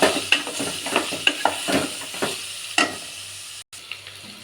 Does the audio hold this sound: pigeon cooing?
no